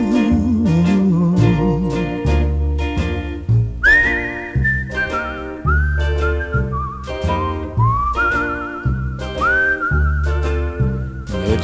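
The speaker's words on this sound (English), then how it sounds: "It's a whistling tune for walking in the night." A melodic whistled tune from a 1961 song rises above the band, sustained and wavering over steady backing instruments for most of the passage.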